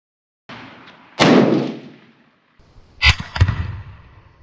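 Handgun shots crack out at a shooting range, one sharp report followed by a decaying tail, then two more quick shots in close succession, loud and near, with no talking.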